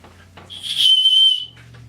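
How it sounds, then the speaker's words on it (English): A shrill, steady blast from a whistle built into an orange backpack buckle, lasting under a second, loud and close, with quiet handling noise before and after. "you see the orange buckle here. It's a whistle."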